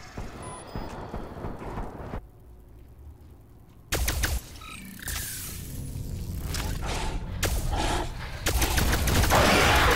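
Bursts of experimental wonder weapon fire in the video game Call of Duty: Black Ops Cold War, loud crackling volleys separated by a quieter gap, ending in a dense sustained barrage.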